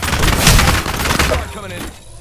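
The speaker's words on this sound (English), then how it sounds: "Look out, grenade." A grenade blast in a first-person shooter video game, erupting as a loud, dense burst of booming gunfire-like crackle that dominates the short clip before trailing off.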